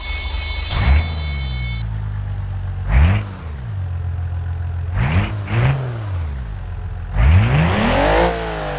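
Car engine in the BeamNG.Drive driving game, using the game's older engine sounds. It starts, then gives several sharp rev bursts that rise and fall over an idle, with the last rev longest and loudest.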